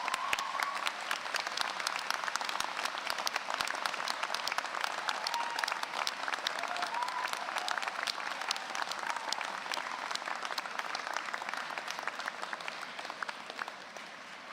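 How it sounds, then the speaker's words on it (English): Large graduation ceremony audience in a hall giving sustained, even applause, heard from a distance at moderate level without a break for about fourteen seconds. "and a huge round of applause."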